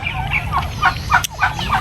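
A turkey gobbles in repeated short bursts, fairly close and loud over a steady low background rumble, with a brief sharp noise near the middle.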